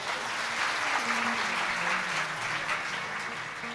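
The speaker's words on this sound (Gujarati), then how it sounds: "વધાવો તાળીઓથી" A crowd applauds at a religious gathering at Manas Hanumant Dham, Navakatariya, giving a dense steady clapping that holds for a few seconds and then begins to fade slightly.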